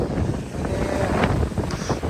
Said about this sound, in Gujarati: તો ફૂલ પવન છે